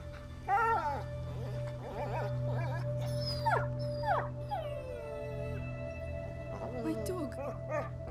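A dog in a video game howls, whimpers and yips in several drawn-out rising and falling bursts over a steady low hum, with a game character's voice talking between them.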